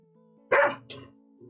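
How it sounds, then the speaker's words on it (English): A dog gives two sharp, close barks, the first loud and the second shorter and softer, over a quiet low hum. "Stop barking. It's really rude."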